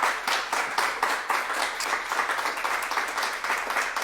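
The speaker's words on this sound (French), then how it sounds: "Applaudissements pour notre partenaire." An audience at a launch event for a solidarity mobility initiative claps for a partner, a lively sustained round of applause with distinct, rhythmic hand claps standing out from the crowd.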